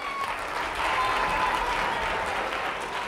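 Concert audience applauding at a televised classical music show, a dense, steady wash of clapping that holds at an even, fairly loud level throughout with no talk over it.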